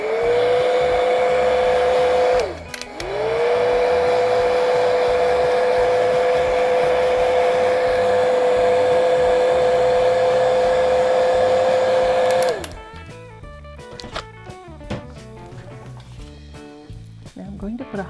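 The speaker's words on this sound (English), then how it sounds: "I'm going to actually take the dryer to this for a second." A hair dryer used to dry paint whines loudly and steadily, briefly cutting out and restarting, then switches off, leaving quieter background sound with faint speech.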